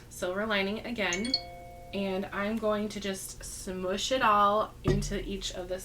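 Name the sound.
phone notification chime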